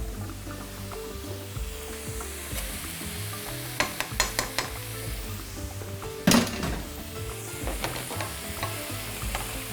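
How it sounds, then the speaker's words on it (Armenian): Buckwheat sizzles in a pan with sauce while being stirred, with scattered scraping clicks of a utensil against the pan and a sharper knock partway through. "խառնելով տապակում ենք այնքան, որ հնդկաձավարը իր մեջ առնի առաջացած սոուսը"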